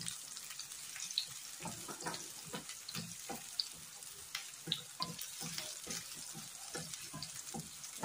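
Garlic and ginger are sautéed in hot oil for squid adobo. They sizzle and crackle steadily at close range, with scattered scrapes and stirring knocks throughout.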